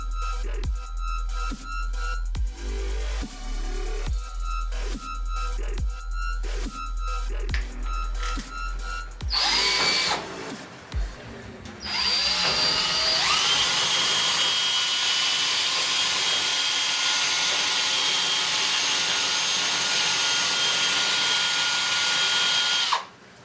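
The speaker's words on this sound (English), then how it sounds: "pull it out with the drill with ease" A power drill whirs in short repeated bursts, then after a pause runs in one long, loud, steady high-pitched spin before cutting off abruptly, pulling out a helical coil.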